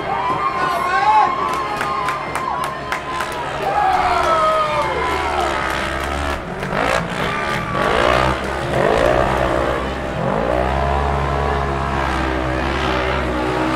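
Spectators at a snowcross and UTV race cheer and shout in a lively crowd, with high voices and whoops rising and falling while engine drone rumbles low underneath throughout.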